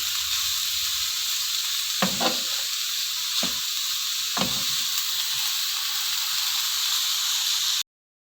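Spring roll filling of chicken and vegetables fries in a pan with a steady, close sizzle, broken by three brief stirring scrapes and clatters.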